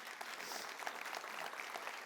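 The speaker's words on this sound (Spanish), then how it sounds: "déle un aplauso al Señor" A church congregation applauds during a sermon, a soft, steady wash of many hands clapping together at a distance, continuous and faint throughout.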